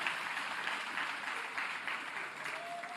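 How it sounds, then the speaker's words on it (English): An audience applauds the South African Police Service at an ANC party gathering, producing a dense, steady wash of clapping that fills the whole stretch at moderate distance. "a big round of applause for the good work that they are doing."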